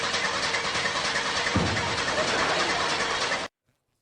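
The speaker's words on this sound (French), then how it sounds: "Kramer entre, tourne la clé et la voiture ne démarre pas" Car engine cranking without catching in a film scene: a steady, loud, dense mechanical whir that runs unbroken for several seconds, then cuts off abruptly into silence.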